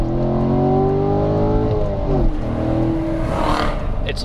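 A 2014 Chevrolet Corvette C7 Stingray convertible revs up as it accelerates, a loud, close engine note rising in pitch and then settling, with a brief shift-like dip midway.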